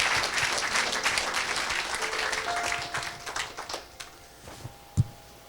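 A church congregation applauds for Jesus during an evangelist's sermon, dense sustained clapping that thins into scattered claps toward the end, with one sharp loud clap near the close.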